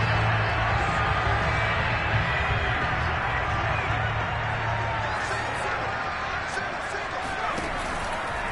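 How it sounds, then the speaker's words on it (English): Football crowd at a USFL game in 2021 shouting and murmuring while watching a replay, a steady dense roar of many voices throughout with no single standout cheer. "Plenty of shouts from this crowd as they watch the replay"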